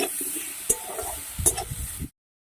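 Potatoes fry in a pan with salt and turmeric, a soft sizzle broken by two sharp spatula scrapes and clatters of stirring before the sound cuts off abruptly.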